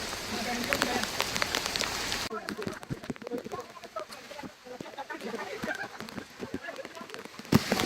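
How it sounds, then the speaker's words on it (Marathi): Dense patter of heavy monsoon rain at Matheran on surfaces with drops hitting nearby, while people talk over it and a rooster crows faintly. "खूप जोरात पाऊस आलाय."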